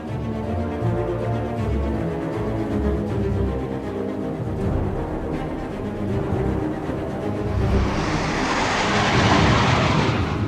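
Space shuttle takeoff effect: a loud, sustained low rumbling roar that builds steadily and swells into a broad hissing blast near the end, with no voices.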